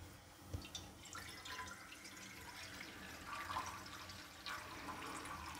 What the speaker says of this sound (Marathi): आता यात पाणी घ्यायचं आहे।